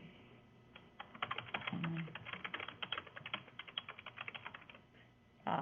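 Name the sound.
typing on computer keyboard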